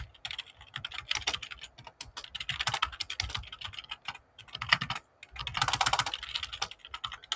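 Someone types code on a computer keyboard, a close, fast patter of clicking keys in bursts separated by short pauses.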